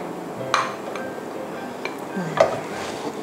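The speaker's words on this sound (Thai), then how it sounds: "กดข้าวให้แนบไปกับถ้วยนะคะ" Cooked crab fried rice being pressed into a bowl to mould it, with a few light clinks of a spoon against the bowl and soft scraping between them, close and fairly quiet.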